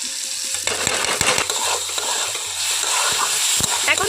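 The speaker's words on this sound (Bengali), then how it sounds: "সমস্ত মশলা খুব ভালোভাবে তেলের মধ্যে কষিয়ে নেব" Spices for a bhindi aloo dish are fried and stirred in oil, giving a steady close sizzle. A spatula scrapes and taps against the pan in an irregular rhythm over the sizzle.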